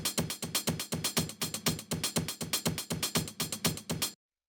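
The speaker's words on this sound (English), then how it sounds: "The next thing we have here is this drum rack full of these break chops, which sounds like this." Chopped drum-break hits from a drum rack play in a fast, steady, looping rhythm, each punchy hit loud and up front, running for about four seconds and then cutting off abruptly into silence.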